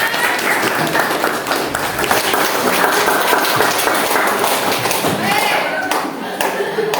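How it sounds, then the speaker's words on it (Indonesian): A classroom of students applauds together, with steady, dense clapping that carries on for several seconds and includes scattered taps and thumps throughout. "Tepuk tangan untuk semuanya."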